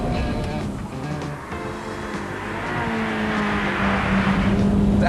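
Ferrari 355 engine pulling hard at speed in fifth gear down a straight near 130 mph, a loud continuous roar with rising harmonic tone near the end, recorded close and alone without talk.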